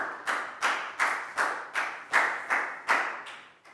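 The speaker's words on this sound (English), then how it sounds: "big round of applause for Prau" A small group in a Year 4 classroom claps in unison, eight distinct evenly spaced claps with a quick rhythmic beat, close and clear with no talking.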